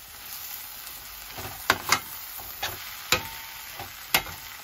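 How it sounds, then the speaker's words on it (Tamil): Onion, dried fish and grated coconut are sautéed together in a pan, producing a soft continuous sizzle broken by several sharp scraping stirs and spoon taps, close by and without talk. "எல்லாத்தையும் போட்டு நல்லா வதக்குங்க."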